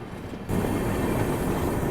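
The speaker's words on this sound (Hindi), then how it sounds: "अपनी ट्रेन पहुंच रही है मालदा टाउन रेलवे स्टेशन" The Rajdhani Express rolls into Malda Town railway station. A steady, loud rumble of the moving train swells suddenly and then holds as a dense roar, with no voices.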